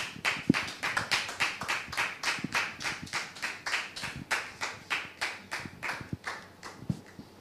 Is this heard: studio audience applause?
yes